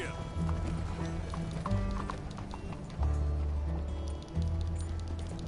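In the video game Red Dead Redemption 2, a horse pulling a coach gallops with rhythmic clip-clop hoofbeats and rolling wheels, close and steady, while voices talk over it.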